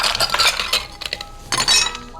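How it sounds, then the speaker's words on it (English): Ice cubes clink and rattle into a cocktail glass for a mango and orange juice drink, a quick run of bright glassy knocks in two close bursts with no talking. "Time to ice up the glass."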